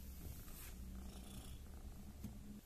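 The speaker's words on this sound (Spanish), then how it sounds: "Así es como se acaricia un gato." A cat purrs steadily and close while being petted, a low continuous rumbling throb with no talking over it.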